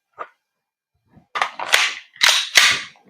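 An airsoft or pellet gun is fired through a chronograph during a chrono test. A faint click comes first, then a rapid series of four or five loud, sharp cracks close to the microphone, with no talking.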